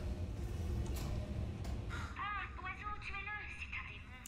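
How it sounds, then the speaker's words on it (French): Bird cawing in the video game Portal 2, a series of harsh crow-like caws in the second half, moderately loud over a rumbling game background. "c'est un oiseau. Il s'est bah oui, c'est envolé."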